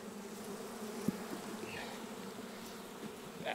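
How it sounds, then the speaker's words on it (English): A steady, close buzzing of a cluster of bees during hive frame swapping fills the clip, a dense insect drone with a few brief louder passes. "There's a mad cluster of bees right there."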